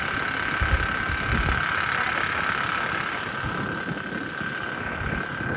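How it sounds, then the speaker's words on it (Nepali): A scooter being ridden on an outing road, a steady mid-pitched engine drone with constant wind and road rush up close, unbroken throughout. "मेरो बुढाले स्कुटर चलाउँदै हुनुहुन्छ।"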